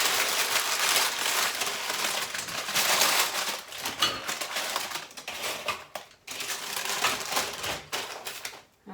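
A folded homemade snack is broken apart by hand, producing dense, close crackling and crinkling snaps that come in bursts with short pauses between them.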